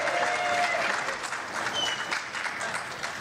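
Audience at a Toronto cricket club gathering breaks into sustained applause, a dense, even patter of many hands with faint tonal whistles or voices mixed in.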